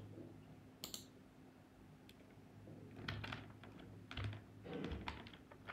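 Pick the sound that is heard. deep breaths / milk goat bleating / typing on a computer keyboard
typing on a computer keyboard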